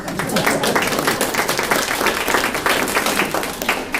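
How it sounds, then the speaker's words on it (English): A room full of people applauds at a 2015 candidate forum in Mesquite, Texas, loud and sustained clapping that stays dense and even for about four seconds. "I'd like to give them a round of applause"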